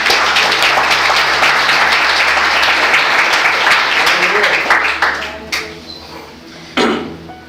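A church congregation applauds loudly and continuously during a sermon, with dense clapping that thins out toward the end into a few scattered claps.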